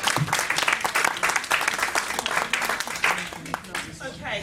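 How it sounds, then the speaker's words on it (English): Audience applause at a Jamaica golden jubilee anniversary event, lively clapping from a gathered crowd with voices mixed in, fading near the end. "Can we just give a round of applause for Nadia"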